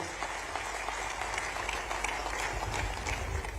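Audience applause welcomes Chief Minister Mohan Yadav at a one-day capacity-building training workshop in Bhopal: dense, steady clapping from a crowd, sustained evenly throughout.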